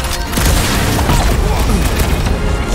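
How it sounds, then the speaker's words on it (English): A mine explosion in Guardians of the Galaxy, a loud, heavy boom with a dense rumbling, crackling blast that fills the whole moment, with game voices faintly mixed in. "Okay, you got destroyed by the mine."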